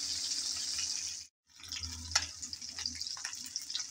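Small koi fish frying in hot oil in a pan, a steady close hiss and sizzle that briefly cuts out, then resumes with crackling pops.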